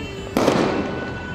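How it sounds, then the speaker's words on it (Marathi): A single loud firecracker bang bursts during Holi celebrations in Vrindavan, followed by a decaying crackle and echo against steady background noise. "फटाके सुद्धा फुटायले"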